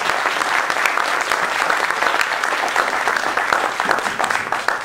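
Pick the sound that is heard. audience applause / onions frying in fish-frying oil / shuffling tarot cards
audience applause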